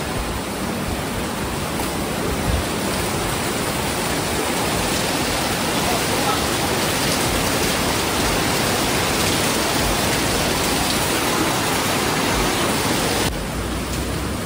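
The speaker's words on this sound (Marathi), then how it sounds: "खाऊ गल्लीत पण धोधो पाऊस" Heavy rain pours onto a quiet food street in Belapur as a dense, loud, unbroken hiss that holds steady throughout, with no clear voices above it.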